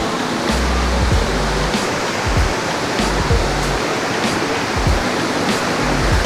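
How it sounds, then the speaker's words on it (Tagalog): Loud rushing water pours down at Pinlac Falls, a dense, constant roar filling the whole stretch with no break. "sobrang lakas talaga ng tubig dito"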